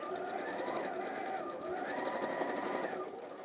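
A sewing machine runs steadily for a few seconds, stitching fabric around a curve, with a continuous whirring motor hum and a slight pitch change midway as the speed shifts.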